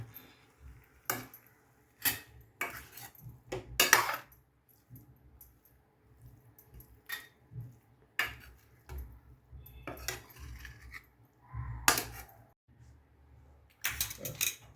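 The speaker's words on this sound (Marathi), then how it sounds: "आता आपण भाजी हलवून घेऊया" Metal utensil scraping and clinking against a pan while stirring aviyal vegetables, in short irregular bursts with quiet gaps between strokes.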